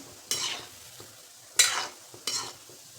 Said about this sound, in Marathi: लो लो फ्लेमवरती सारखं हलवत राहायचे